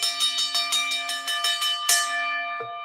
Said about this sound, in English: Ring the bell for Andrew.